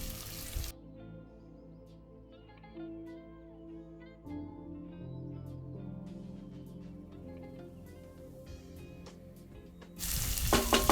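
Chilies and capsicum sizzle steadily in hot oil while being fried for gobi manchurian, a continuous crackle that runs on with no talk.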